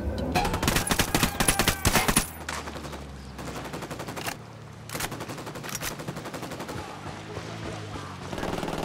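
Rapid gunfire erupts in the video game Ghost Recon Wildlands: loud, dense automatic bursts up close, then scattered single shots and more distant volleys.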